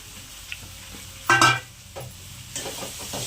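A Marathi home-style cooking scene with poli flatbread tossed into a hot pan with onion, lemon, chilli and peanuts, giving a short burst of sizzling and stirring scrapes amid quieter pan noise.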